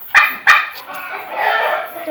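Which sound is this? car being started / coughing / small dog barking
small dog barking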